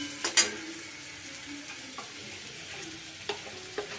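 Spices hit onions that have already been fried until red for a doi potol curry, giving a soft, steady sizzle and a few sharp scraping stirs of a spatula in the pan.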